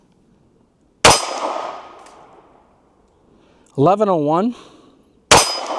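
Two sharp, loud metallic clangs about four seconds apart as .380 pistol bullets strike a steel target downrange, each ringing briefly; a voice speaks between them.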